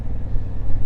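A 2024 Honda Africa Twin DCT ES with a 1000cc parallel-twin engine and stock exhaust gives a steady, close, low throbbing rumble that stays even throughout.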